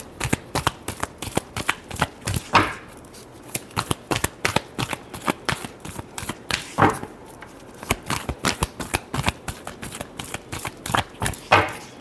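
A deck of tarot cards is shuffled up close, a rapid series of crisp riffling flicks in bursts over about twelve seconds, with no talking.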